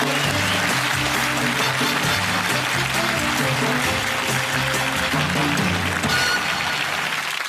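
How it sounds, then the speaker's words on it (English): A television studio audience applauds a bodybuilder on a comedy panel show, steady moderate clapping with music-like tonal layers underneath, lasting several seconds before easing. "a big round of applause for our bodybuilder, Robbie Anshan."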